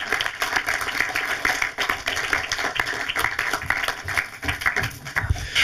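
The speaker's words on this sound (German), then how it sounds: "Ja, einen herzlichen Applaus auch für Axel Ranisch." Lively applause from an audience at a panel discussion for a German Mumblecore symposium, dense overlapping hand claps with a close, sustained patter that holds for several seconds without pause.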